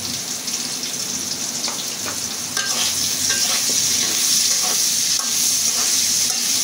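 Chopped onion fries in a pan with potatoes, turmeric and salt, giving a close, continuous hiss with faint stirring scrapes. The sizzle swells louder partway through and stays strong, with no voices.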